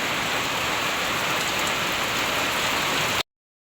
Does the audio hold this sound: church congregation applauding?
no